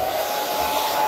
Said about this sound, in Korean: 그런 다음에 드라이기로